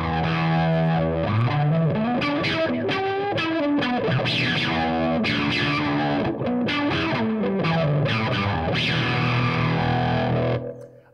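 Electric guitar through a Seymour Duncan Fooz analog fuzz synthesizer with an envelope-controlled low-pass filter, played as loud, distorted phrases whose brightness opens and closes with picking strength, ending with a short fade.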